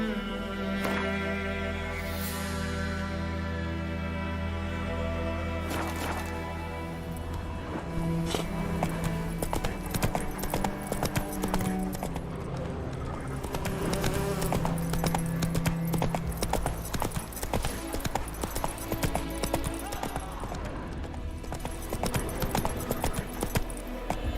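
Roach the horse gallops in The Witcher 3 Next Gen, hooves clip-clopping in a steady, fairly close rhythm over continuous game music, getting busier in the second half.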